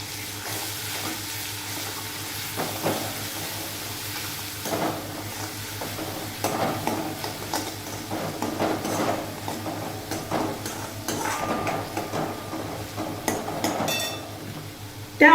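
A mixture for kadhi bhaji is stirred in a pan, with soft scraping and stirring strokes over a low, steady sizzle and a faint background hum, close and without talk.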